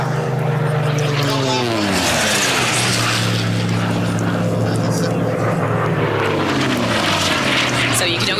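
An Unlimited class racing plane at the Reno Air Races roars past close by, its propeller engine drone swelling then dropping in pitch as it passes, with a public-address announcer talking over it.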